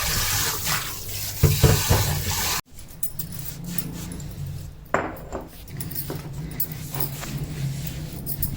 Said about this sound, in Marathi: आता परत एकदा धुवून घ्यायचं मीठ बारीक केल्यानंतर